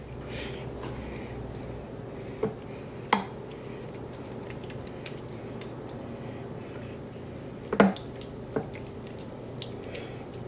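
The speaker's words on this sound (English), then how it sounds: "And we're going to put our tofu mixture right in there, all of it." A spatula scrapes and squishes a tofu mixture into a dairy-free lasagne. Soft wet smearing sounds come close up, broken by a few sharp clinks of the utensil against the dish.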